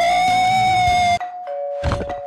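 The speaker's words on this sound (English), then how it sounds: "Didn't know zombies could ring doorbell." A doorbell chimes in Roblox Brookhaven with a bright sustained electronic ding-dong tone, then a short gap, a softer second chime and a burst of game noise at the end.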